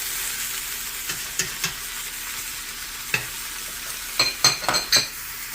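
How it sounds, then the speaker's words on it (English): Green peppers and onions tossed in a pot for beef stew, a low steady sizzle with scattered spoon scrapes and knocks, then a quick flurry of louder clattering strokes near the end, close and without talk. "And just toss those and make sure that your green peppers and your onions are going to be on the bottom now"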